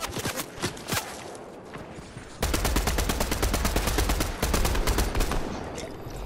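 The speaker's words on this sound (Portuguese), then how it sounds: "Tem gente atirando nas costas e na frente aí" Rapid video game gunfire, with dense bursts of shots overlapping in a frantic firefight that grows louder and steadier partway through and continues without pause.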